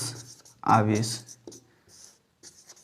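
Chalk or marker scratching across a board in a Class 12 physics lesson on electric charge, several short rubbing strokes close by, mixed with someone speaking.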